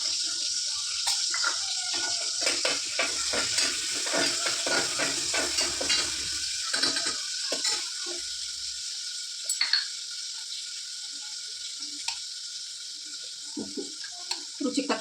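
Garlic hits a hot tempering of cumin and mustard seeds in a home kitchen, giving a steady bright sizzle and hiss with stirring clatter and scraping through the first half, settling to a softer continuous fry.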